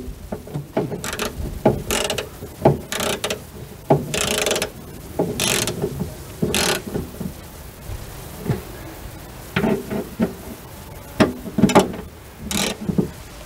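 Torx screws being tightened by hand with a ratcheting driver, giving repeated short clicking ratchet bursts in irregular runs, close and moderately loud, with no talking.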